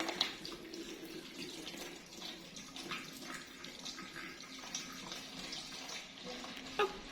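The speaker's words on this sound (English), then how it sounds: "Now I'm going to pour the dirty water inside." Dirty water being poured into an airtight container during home water filtration, a steady splashing, trickling flow heard close up for several seconds with a brief louder splash near the end.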